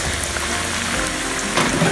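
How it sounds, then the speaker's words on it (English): Green plantain slices fry in oil on low heat, giving a steady, close sizzle and crackle like rain on a surface. The hiss grows a bit louder near the end, and no one speaks. "They have been frying for 3 minutes"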